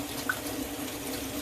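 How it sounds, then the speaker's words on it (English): Warm tap water flows steadily from a faucet into a container, a constant close rushing stream with a faint tonal hum under it and no voices. "So we're just going to turn the water on."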